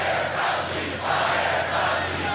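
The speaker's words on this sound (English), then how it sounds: "which sparked a chant from the crowd" Large crowd chanting at a late-night Trump rally at Miami-Opa Locka Executive Airport, a dense, sustained roar of many voices heard from a distance, steady and fairly faint throughout.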